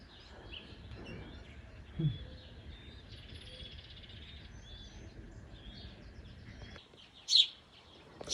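Baby birds in a nest chirp faintly in a quiet outdoor farm setting, with a couple of sharper high peeps near the end.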